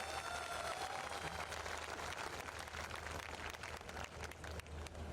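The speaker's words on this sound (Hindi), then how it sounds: "एक बार आशुतोष जी के लिए बहुत जोरदार तालियां चाहता हूँ।" An audience at a large RCM gathering applauds a guest, a faint, distant, steady patter of many hands clapping under a low hum from the hall.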